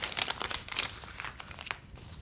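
Thin transparent plastic sticker packaging with dried-flower stickers crinkles and crackles as it is opened, a close run of light rustles and small crunches that thin out toward the end.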